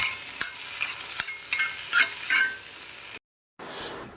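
A spoon scrapes and clinks rhythmically in a pan of cucumber and sesame curry just after mustard paste is added, several distinct strokes over a soft sizzle before the sound cuts out briefly and resumes faintly.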